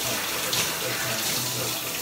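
Shower water runs steadily in a bathroom, a loud, even spray of hiss and splash filling the whole moment without a break.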